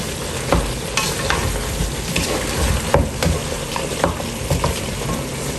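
Meat cooking in a pan, a loud close sizzle with frequent scraping and stirring clicks, no voices over it.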